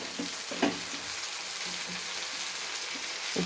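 Onions frying in a pan for sabbakki uppittu, a steady close sizzle with a few stirring scrapes and clinks, no voices.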